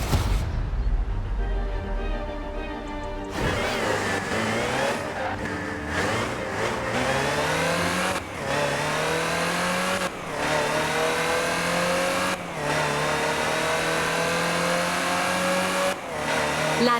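Land Rover Type 3 driving in Forza Horizon 4: a steady mid-pitched engine drones and rises through repeated gear changes, each shift marked by a brief dip before the revs climb again, close and loud with no talk.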